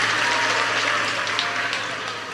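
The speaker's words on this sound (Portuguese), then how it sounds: "os que podem, tomem seu assento aplaudindo a Jesus" A church congregation applauding at a morning communion service: dense, steady clapping from many hands fills the room, evenly loud and unbroken from start to finish, with no single voice standing out.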